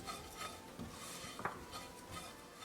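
Grated coconut being stirred in a metal pan while it roasts for almond ladoo, a spatula scraping and clinking softly in an uneven rhythm with a faint sizzle, close and fairly quiet, no talking.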